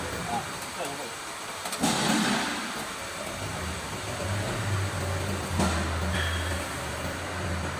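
A small flat die animal feed pellet machine with a 3 kW single-phase electric motor, model SKT120, runs nearby as a steady, loud mechanical hum and whir with a low droning tone throughout.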